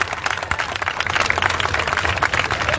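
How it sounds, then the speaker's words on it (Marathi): A large rally crowd in Sangli applauds vigorously, with dense, steady clapping sustained loud and close throughout. "आपल्या सगळ्यांसाठी एकदा जोरदार टाळ्या वाजवूया"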